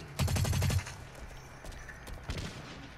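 Gunfire in the shooter game Blacklight comes as one short, rapid automatic burst, followed by a few scattered shots, all fairly quiet.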